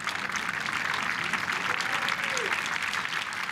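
Golf spectators at the 2023 AIG Women's Open at Walton Heath give a warm, sustained round of applause, a continuous wash of clapping heard from a short distance.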